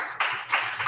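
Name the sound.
audience clapping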